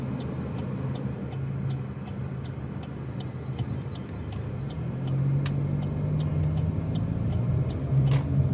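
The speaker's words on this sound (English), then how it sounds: "As soon as this other car comes." A car passing on a city street near a race course, its engine swelling as it approaches and grows louder toward the end, alongside a steady faint ticking.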